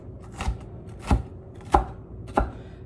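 Four evenly spaced knife chops cut through a pile of onions on a cutting board for a summer corn salad, each a sharp close thud.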